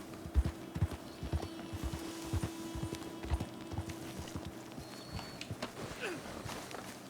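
Steady clip-clop of horse hooves in Red Dead Redemption 2, walking at an even pace, with a few louder thuds mixed in over a low game-like background hum.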